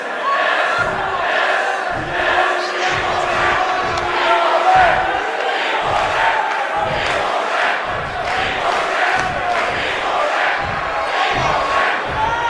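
A wrestling event crowd roars and chants in a loud, sustained wash, with rhythmic bursts of cheering pulsing through it.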